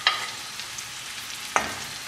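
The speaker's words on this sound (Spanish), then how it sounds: "Una vez que tengo la cebolla de verdeo sofrita, voy a agregar 2 dientes de ajo picado." Minced garlic frying in a pan with sautéed green onion, a steady close sizzle with two brief sharper bursts of crackle as it is stirred.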